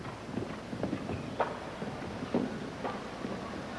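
A small horse's hooves clip-clop across a show jumping arena during an international competition, with irregular thuds and footfalls heard at moderate distance over a soft background.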